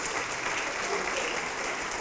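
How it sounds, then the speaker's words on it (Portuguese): A church congregation claps together in a steady, dense wash of applause, fairly soft and continuous for a couple of seconds with no speech over it. "Vamos aplaudir mais, igreja."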